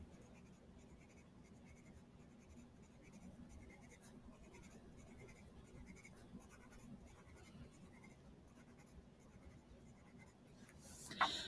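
Pen drawing stars on paper for a multiplication worksheet, a steady faint scratching of writing strokes that runs throughout, with a sharper tap near the end.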